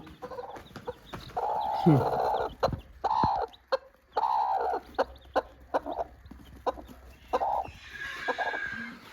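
Free-range hens cluck in short repeated bursts with a rooster-like call near the start, close and fairly loud, with farmyard background noise between calls.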